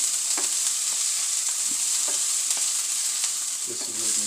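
Food fries in hot oil in a pan, a continuous bright sizzle punctuated by small sharp pops and crackles at irregular intervals, heard close up with no talking.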